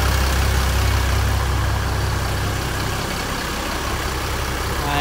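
Mercedes-Benz OH1526 bus engine running at idle, a loud, steady, low diesel rumble heard up close and continuous throughout.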